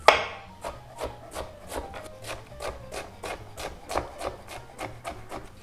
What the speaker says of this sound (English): I just finely julienne the zucchini first.